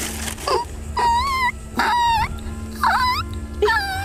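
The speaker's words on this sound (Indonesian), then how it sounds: "Kayak suara bayi." Baby-like wailing heard several times in a row, drawn-out rising and falling cries with short gaps between them, fairly loud over a steady low hum.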